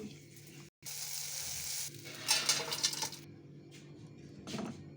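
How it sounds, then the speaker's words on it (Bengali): Bitter gourd frying in oil in a wok: a continuous close hiss of sizzling, broken briefly near the start, with bursts of louder crackle and scraping stirs partway through, no talking. "ভেজে নেব এই কড়াই"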